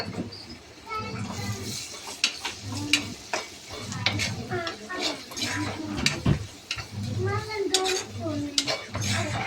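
Red chili powder being stirred into bhaji frying in a pan, a soft sizzle with scraping and clinking of a spoon against the pot, heard under ongoing talk nearby.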